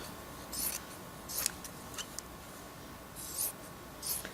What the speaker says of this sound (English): And then I may rough cut around it a little bit.